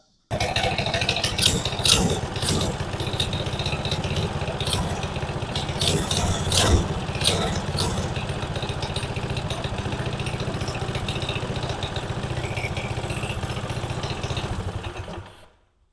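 A restored minibike's small engine runs steadily at a fast idle with a dense, buzzy putter and metallic rattles, loud and close, holding on for about fifteen seconds before cutting off at the end.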